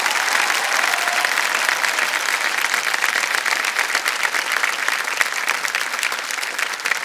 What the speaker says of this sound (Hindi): और जोरदार तालियां बज जाए इनके लिए।